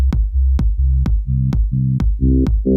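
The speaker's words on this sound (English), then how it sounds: "Oscillator B is modulating oscillator A, so that's generating higher harmonics." FM synth bass from Ableton Operator, with oscillator B modulating oscillator A for a tech bass tone. Loud, close notes repeat about every half second, each opening with a bright attack over a deep, buzzy sustain.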